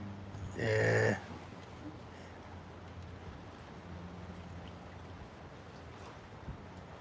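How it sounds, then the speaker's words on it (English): Steady outdoor wind noise rushes across the microphone, with a brief louder burst near the start and a low rumble underneath throughout. "Too windy today."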